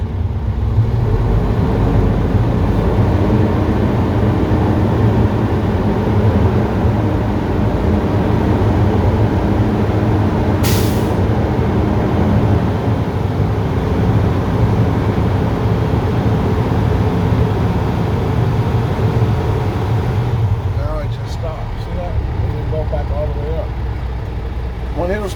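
A truck engine holds steady revs between about 1200 and 1500 RPM to build air brake pressure, a loud continuous drone with a brief hiss midway and a voice talking near the end.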